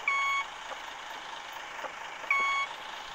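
Bus reversing beeps in the Bus Simulator Ultimate video game: two steady electronic tones, each about half a second, sounding over a quiet idling engine hum.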